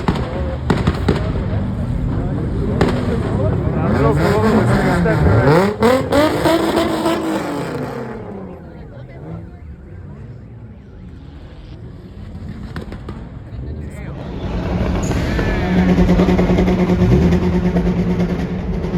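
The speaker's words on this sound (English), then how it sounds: "Everybody started two-stepping and shit." Cars two-stepping at a Southern California car meet, with rapid exhaust pops and crackles over revving engines, loud and close, with a quieter lull midway before the engine roar builds again; people talk in the background.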